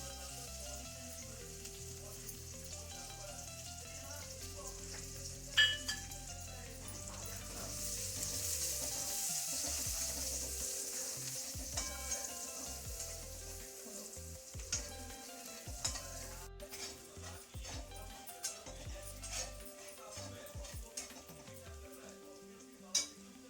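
Garlic sizzles in a hot pan in a home kitchen, a quiet, steady frying hiss broken by occasional clinks of a spoon against the pan.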